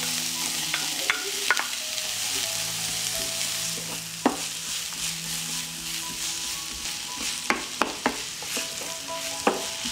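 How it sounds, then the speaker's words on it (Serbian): Onion and garlic fry in hot oil in a pan, a steady close sizzle broken by occasional sharp pops and spatula scrapes as they are stirred. "Ulje se zagrejalo i propržit ćemo crni i beli luk"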